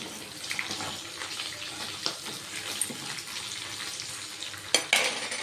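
Vegetables for nalleru pachadi cooking in a pan and being stirred, a close continuous sizzle with soft scraping strokes and a sharper clatter near the end.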